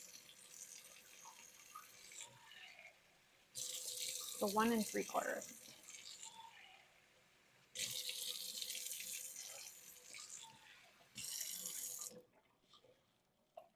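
Tap water runs into a cup in a home kitchen while measuring water for a hot fudge pudding cake, in three steady bursts with pauses between, a brief spoken phrase overlapping the first.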